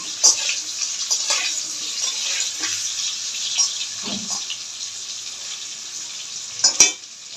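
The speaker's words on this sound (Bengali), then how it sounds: "বেশি না অল্প একটু নুন দেবো অল্প একটু হলুদ দেবো দিয়ে এটাকে একটু হালকা লাল করে ভেজে নেব" Potatoes frying in oil with salt and turmeric, a steady close sizzle running throughout with a few brief clinks and stirring knocks, and no talking.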